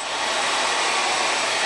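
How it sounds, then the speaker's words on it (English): A hair dryer blows hot air into a freshly painted RC car body, a loud, steady, close airy roar with no pauses. "Number one thing you can do is grab a hair dryer."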